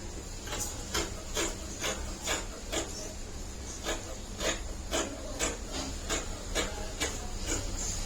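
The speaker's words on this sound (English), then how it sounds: "I'm using this one to secure my fabric before I cut" Scissors snip through fabric held flat on a fold. The cuts form a steady series of soft, crisp clips about twice a second, fairly quiet and close, over a low room hum, with no voices.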